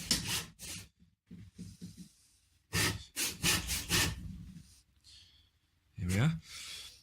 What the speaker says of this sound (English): So basically I'm going to cut lines like this all around where the bevel is going to be.